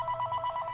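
Phone ringing during a shooter video game session, a steady repeating electronic ring pulsing at a regular rhythm, fairly faint and close, with game noise underneath.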